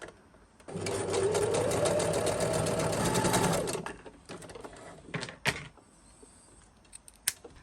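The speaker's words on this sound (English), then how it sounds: "Placing the fabric in the middle, folding it and sewing." A sewing machine stitches fold over elastic onto fabric in a quick, steady whirring burst of about three seconds, followed by a few separate clicks and knocks of handling the machine.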